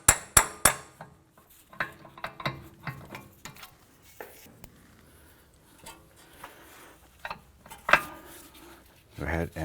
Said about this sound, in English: We're going to use a punch with a hammer, and we're going to just try and assist that axle coming out through the back side.